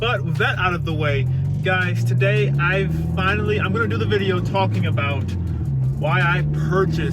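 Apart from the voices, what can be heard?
sports car aftermarket exhaust while driving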